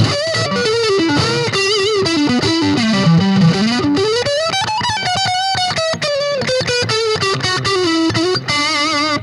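A distorted electric guitar plays a fast, continuous melodic line through an amp, loud and close, with sliding notes and no voices.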